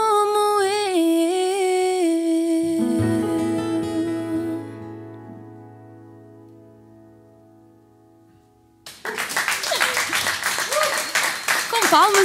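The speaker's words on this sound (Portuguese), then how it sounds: "Com palmas e tudo." An audience applauds at a live music performance, a burst of dense clapping that breaks out after a sung note fades away and carries on to the end.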